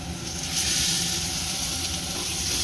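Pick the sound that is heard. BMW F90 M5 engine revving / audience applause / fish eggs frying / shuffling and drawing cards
fish eggs frying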